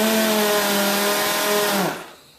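Dual action sander running loud and close with a steady whining motor hum, then spinning down and cutting off near the end, leaving near silence.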